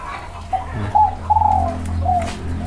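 A spotted dove coos softly nearby, a few low, gentle hooting notes in a short phrase over a quiet background hum.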